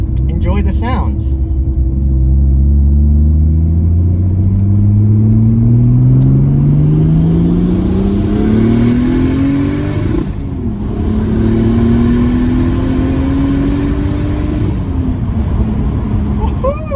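Close, loud engine of a turbocharged M104 swapped into a Mercedes W203, with a 3-inch exhaust and screamer pipe, rising through two long pulls with a gear change between them. Constant rumble and wind noise sit underneath.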